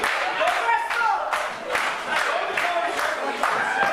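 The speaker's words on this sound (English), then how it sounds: "getting this crowd here behind Sterling" A wrestling crowd at an indie show cheers and claps behind Sterling during a Dante versus Tad White match, a steady roar of voices with bursts of clapping rising and falling over a few seconds.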